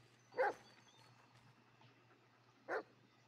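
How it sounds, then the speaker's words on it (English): A dog in the Blair Witch video game barks twice, short single yips spaced a couple of seconds apart over a faint low hum, fairly quiet. "Shut up, dog."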